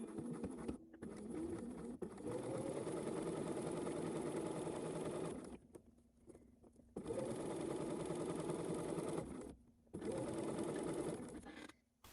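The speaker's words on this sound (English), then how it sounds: "after sewing on the fly facing, I then went and trimmed the seam down towards the large dot" A sewing machine stitches the fly facing onto a pair of pants. It runs in long, steady bursts of rapid needle chatter, broken by brief pauses between runs.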